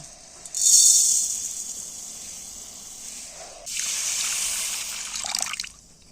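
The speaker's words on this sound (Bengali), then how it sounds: "যতটা চিনি ততটা জল দিলেই হবে" Water is poured into a karahi holding sugar to make syrup for pitha, giving two close hissing, splashing pours, a loud first burst easing into a steady trickle, then a second rush of liquid.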